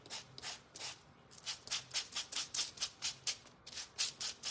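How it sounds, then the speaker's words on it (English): Sanding a small wooden craft piece for hyacinth flower decor, a quick series of rhythmic back-and-forth rubbing strokes, fairly close and soft, with a couple of short pauses and no talking. "let me sand this really quick"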